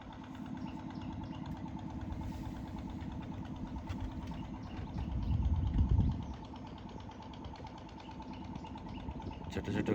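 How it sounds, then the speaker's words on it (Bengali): A tourist trawler boat motors past a homestay in the Sundarbans. Its engine gives a steady, low mid-pitched drone at moderate distance that swells briefly partway through, then settles back, with no talking. "টুরিস্টদের ট্রলার"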